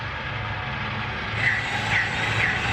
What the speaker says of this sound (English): it's a little bit noisy behind me. You'll hear the traffic from that side.